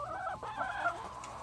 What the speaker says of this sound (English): And here's a little chicken.